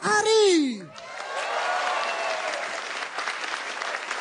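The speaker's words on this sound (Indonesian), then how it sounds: "Beri tepuk tangan buat Ari" A stand-up comedy audience applauds comedian Arie Kriting, a steady crowd clapping that rises after a loud amplified voice opens the clip and continues evenly to the end.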